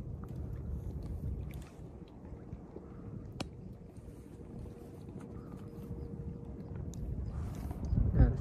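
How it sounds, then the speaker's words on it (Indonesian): Strong wind gusts across an open fishing spot during evening bottom fishing, producing a steady low rushing roar with microphone buffeting that swells near the end, and a few faint clicks and taps. "Ini anginnya muncul gede banget."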